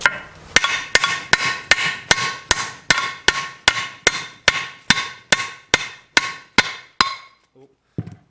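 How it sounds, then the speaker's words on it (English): Metal hammer strikes a stuck part on a 7.3 diesel van, about fifteen sharp evenly spaced blows, close and loud, each ringing briefly before the next, then two faint taps at the end. "I'm just going to go with the old hammer method and hope I can just pop this thing out"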